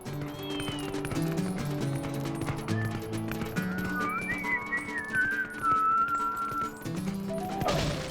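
Whistled melody from the video game The Legend of Zelda: Twilight Princess, with a sequence of sliding, wavering notes over rhythmic game music and sharp percussive hits.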